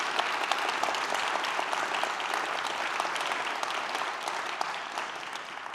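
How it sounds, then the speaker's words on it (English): A large audience at a panel on art, technology and the climate crisis applauds a production team, dense sustained clapping holding steady throughout before easing slightly at the close. "So if we can give them a round of applause as well."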